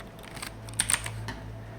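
A computer keyboard typing a Linux command: a few quick, light keystrokes clustered in a short burst, close but fairly soft over a steady low electrical hum, no talking.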